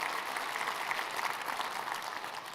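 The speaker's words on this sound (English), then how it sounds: "Let's give them all a nice round of applause" Audience applause fills a conference plenary session after sponsors are thanked, a steady dense wash of many hands clapping at moderate distance with no talk over it.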